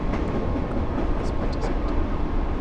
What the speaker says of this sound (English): Sorry if you hear a train chugging along nearby.